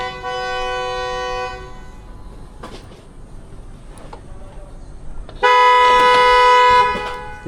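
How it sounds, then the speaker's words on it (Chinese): A car horn honks from behind a motorcycle on a road during a motorcycle tour in northwest China. One steady blast lasts about a second and a half, then after a quieter stretch of traffic comes a louder, longer blast, with no talking. "后面那辆车一直在按喇叭催我"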